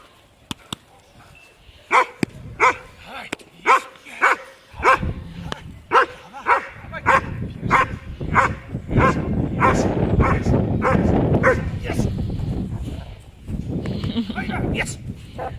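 A German shepherd barks in a run of loud, evenly spaced woofs close by, the barking getting busier and denser midway, while a person talks and cheers over it.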